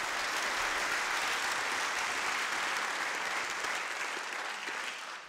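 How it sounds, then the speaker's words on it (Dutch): An audience at a Dutch conference session on cloud privacy claps steadily, a thick, even roar of hands that holds through the clip and begins to fade in the final moment. "Graag nog een applaus voor Udo Doelen."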